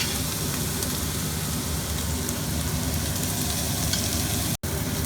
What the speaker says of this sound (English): you have to just saute it till it turns golden brown